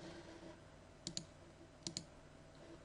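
A computer mouse clicks the Add JARs button in a quiet room: two crisp, close double clicks spaced under a second apart, faint against a low background hum.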